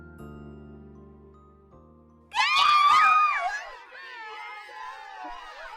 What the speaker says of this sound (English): I could tell just by hearing the girls scream.